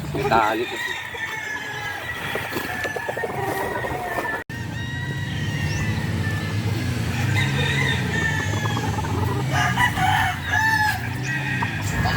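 A rooster, broodcock number 12 kept for local breeding, crows loudly several times nearby among clucking fowl, while someone talks over the farmyard noise.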